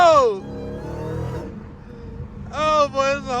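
Dodge Hellcat engine revving loudly in traffic, rising and falling harmonic engine tones in bursts with a lull between, close, with a voice speaking over parts of it.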